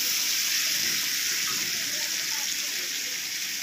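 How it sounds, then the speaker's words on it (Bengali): Heated water pours steadily into a fish and squash-potato curry simmering in a pan, a continuous close watery gush and hiss with faint sizzling underneath. "গরম করা জলগুলো ঢেলে দেওয়া হবে।"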